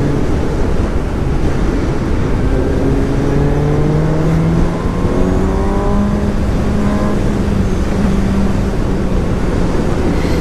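A 2017 Suzuki GSX-S750 motorcycle engine drones loudly and steadily through a test ride, its pitch rising and falling with repeated revving and gear changes under constant wind noise, with no talk.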